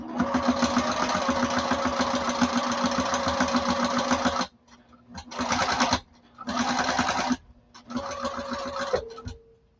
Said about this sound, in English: I'm going to stitch again at 1/8 of an inch across the bottom